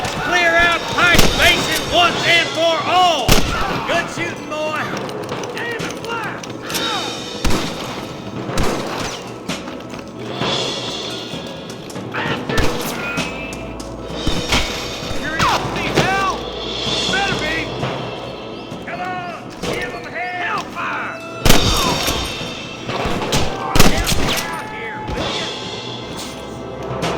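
Sharp gunshots crack and thud repeatedly through a Red Dead Redemption shootout at Pike Basin, dense and loud over music and shouted dialogue.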